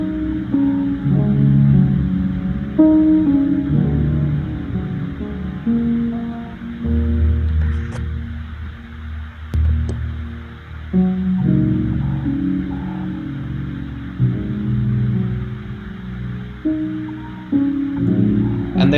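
A piano recording pitched down, giving slow, deep, murky chords with a dark, muffled tone that keep shifting through a continuous passage with no voices.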